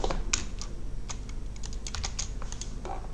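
Close computer keyboard typing, a quick irregular run of light key clicks over a low background hum.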